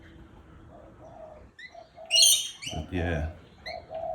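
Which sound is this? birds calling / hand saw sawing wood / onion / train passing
birds calling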